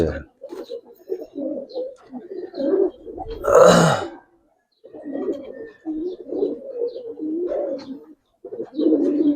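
Giribaz pigeons coo in soft, repeated low bursts close by after release, with a brief louder flutter or squawk partway through and short pauses between calls.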